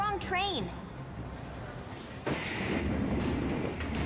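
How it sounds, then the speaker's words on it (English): A train rumbles in steadily during a scene in the game 13 Sentinels: Aegis Rim, with a rising whoosh and dense rolling noise that builds partway through. "Looks like my train's here."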